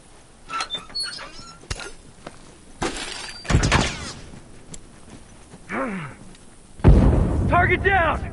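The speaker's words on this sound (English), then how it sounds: "Bombs armed, heads up." Bombs explode during video game combat, heard as several sharp bursts and crashing blasts spread through the clip, with game voice chatter and effects around them and one heavy blast near the end.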